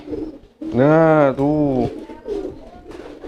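Homing pigeons give a deep, drawn-out rolling coo up close, followed by softer cooing while someone talks nearby.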